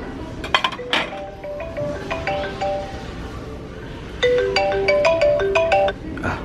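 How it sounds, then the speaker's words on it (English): A mobile phone ringtone plays a bright chiming melody in two bursts, loud and close, with a light clink of dishes or glassware in a thrift-store setting. "Oh, my phone's ringing."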